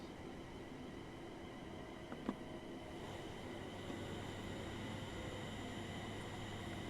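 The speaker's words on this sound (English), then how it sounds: "we are just pulling into Watford Junction" A 12-carriage train in Train Sim World 5 pulls into Watford Junction station on the West Coast Main Line, a steady low rumble and hiss of rolling stock with a faint click midway, growing slightly fuller toward the end.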